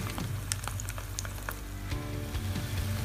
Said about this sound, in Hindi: अब हम इसे 2 मिनट ऐसे और फ्राई कर लेते हैं